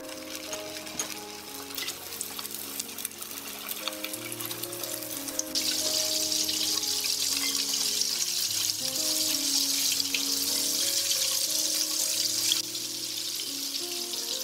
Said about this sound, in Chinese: 油热后开小火放入油锅中炸